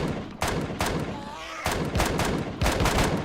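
Video game gunfire from the player's weapon in Empyrion, three loud broadband bursts of rapid shots with a short pause between them, close and dominant.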